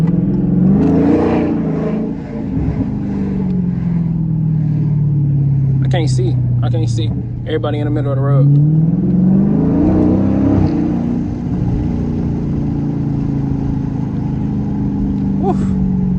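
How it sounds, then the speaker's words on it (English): Dodge 392 V8 with an aftermarket exhaust revs during a short acceleration pull, a loud deep rumble rising and falling throughout, with people talking over it. "See how well we can hear that exhaust."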